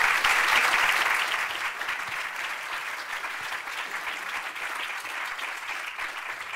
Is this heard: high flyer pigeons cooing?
no